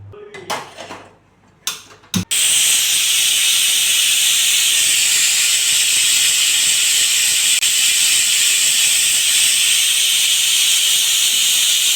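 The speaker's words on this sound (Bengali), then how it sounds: "এবার আমি এটা প্রেশার কুকারে জল দিয়ে আমি সিটি মেরে দেব" Kitchen clatter and brief knocks come first, then a pressure cooker cooking figs in water releases a loud, unbroken jet of hissing steam that runs to the end.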